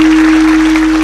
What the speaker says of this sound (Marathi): मनोज दादांसाठी एकदा जोरदार टाळ्या वाजवा.